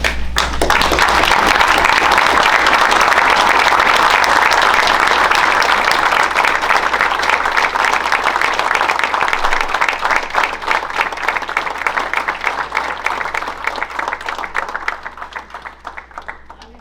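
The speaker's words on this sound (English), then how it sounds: "we can give you a proper round of applause" A room of people gives a long, loud round of applause for retirees at a board of education meeting, with dense clapping that holds steady and then gradually thins and fades toward the end.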